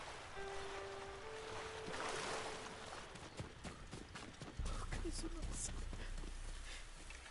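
A horse wades and clops through water in Ghost of Tsushima, with soft, irregular hoof knocks and splashes under steady wave and surf noise, joined by a deeper rush of water partway through, all fairly faint.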